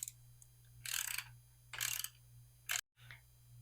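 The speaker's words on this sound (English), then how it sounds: "So now I'm going to remove this cover by removing this screw and these 2 screws." Screws backed out of a cover on a Surron Light Bee X electric motorbike, three short close ratcheting bursts from a hand tool against a quiet low hum.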